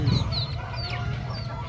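A chicken sick with fowl pox gives a few soft clucks and short calls against a low, steady background hum on a farm, with no talking.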